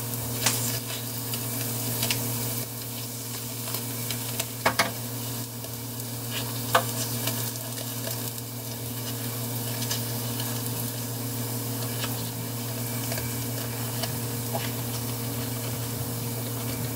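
Takoyaki batter sizzles steadily in a hot takoyaki pan as the balls are turned, a constant close frying hiss broken by occasional light clicks and scrapes of the turning tool.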